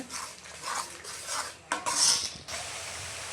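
Spices being stirred in hot oil in a pan while cooking biryani masala, a steady scraping and clinking of a utensil against the pan in short strokes over a faint sizzle, close and alone with no talk.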